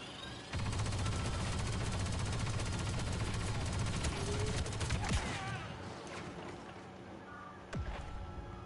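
Sustained rapid-fire blaster shots from Star Wars Battlefront 2, a dense continuous volley lasting several seconds, then tapering into scattered distant battle noise with a sharp blast near the end.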